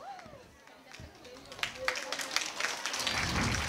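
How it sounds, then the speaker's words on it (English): Scattered clapping rises and thickens into steady applause from a crowd at a school Teachers' Day and Grandparents' Day celebration, growing louder toward the end. "Please give a big round of applause."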